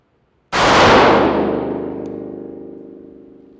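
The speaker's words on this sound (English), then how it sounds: "Next step is draw and fire 1 shot 5 times" A single sharp pistol shot during a draw-and-fire shooting drill, close and loud, followed by a long ringing decay that fades over about three seconds.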